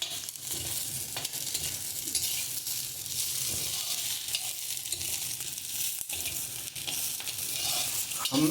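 Sweet corn kernels roast dry in a pan for a kheer, giving a continuous soft sizzle with light scraping and stirring sounds over about eight seconds.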